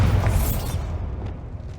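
A Bombarda spell blast in the Hogwarts Legacy video game, a loud low booming burst with a bright crackling top that fades out over about a second and leaves a rumbling tail.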